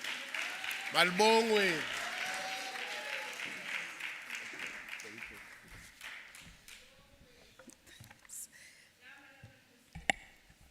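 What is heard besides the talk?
audience applause for the acting premier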